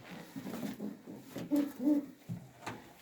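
Large male pigeons in a home coop give low cooing bursts, a few rolling coos close by over a quiet background.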